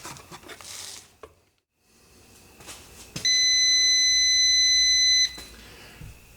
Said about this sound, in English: my battery box is just going to keep beeping as long as I have it turned on